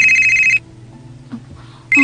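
A cellphone ringtone plays in two loud electronic bursts, with a quiet gap between them.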